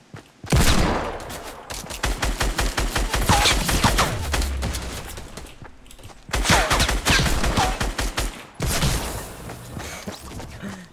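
Rapid bursts of automatic gunfire in a solo battle royale video game, loud sustained volleys of close shots in two long strings separated by a brief pause, with sharp individual cracks.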